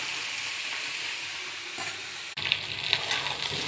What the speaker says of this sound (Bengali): এই যে সবজি ভাজা ভাজা হয়ে গেছে